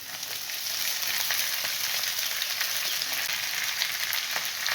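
Sabudana khichdi with diced potatoes sautés in a pan, a continuous close sizzle and crackle of frying with soft stirring, no voices.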